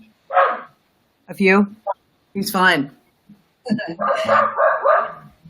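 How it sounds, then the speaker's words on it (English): Dogs bark in short bursts during a late-night talk radio show, competing with nearby voices that speak over and between them. "I apologize about the dogs"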